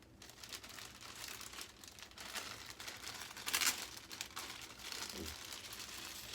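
Packing tape is peeled and torn away from a box and bubble wrap, a close, steady crinkle with a louder ripping burst partway through. There is no speech.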